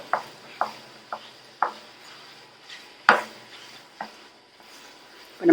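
Thick rice flour dough stirred in a pan, a series of soft, separate knocks and scrapes at close range, spaced roughly half a second to a second apart in an otherwise quiet kitchen.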